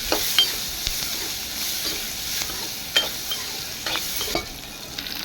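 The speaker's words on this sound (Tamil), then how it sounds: "பெரிய வெங்காயம் போட்டு நல்லா ஒரு கிண்டி கிண்டிட்டு" Large onions frying in a pan for tomato chutney and being stirred, giving a steady sizzle with scraping strokes at irregular intervals and no voices.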